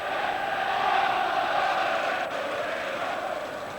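A large football stadium crowd at Anfield roars as a continuous, distant wash of voices, steady and unbroken, as heard on a broadcast recording.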